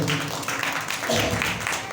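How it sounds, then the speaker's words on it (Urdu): Congregation applause at a church service, dense and steady throughout the short stretch, with voices mixed in beneath the clapping. "زوردار تالیاں خداوند کے لیے بتا دیں"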